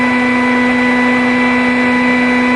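A steady electric motor running at about 1850 RPM, a constant hum with a strong fixed tone and bright overtones, loud and unchanging throughout, with no talk.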